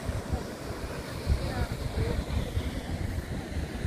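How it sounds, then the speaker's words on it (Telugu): Steady wash of sea waves and gusting wind at Bheemili beach, a continuous broadband roar with buffeting wind noise on the microphone and no clear speech. "ఇది జలకన్య వ్యూ పాయింట్ చూడండి భీమిలి బీచ్లో"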